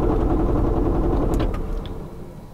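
A car engine misfiring badly with the cylinder two coil pack unplugged runs with a rough, uneven low rumble up close, easing slightly toward the end.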